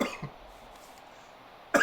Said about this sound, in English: That one gave me a cough.